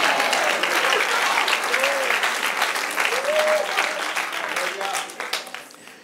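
A church congregation bursts into sustained applause during a service, dense clapping filling the space for several seconds before it gradually thins out, with a voice speaking over it.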